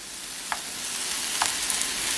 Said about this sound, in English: Add the mushrooms to saute.